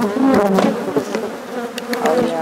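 Angry honey bees swarming around an opened hive, loud close buzzing that wavers in pitch as individual bees pass near.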